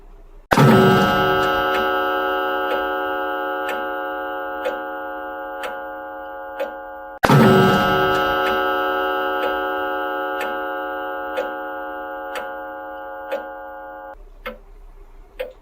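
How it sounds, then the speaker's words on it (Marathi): An alarm clock ticks steadily at 2 a.m. while two long, ringing chime strikes sound a few seconds apart, each note slowly fading under the regular ticking. "त्या खोलीत गजराचे घड्याळ असते. त्याचे टोले पडतात."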